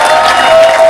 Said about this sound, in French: On applaudit encore pour lui.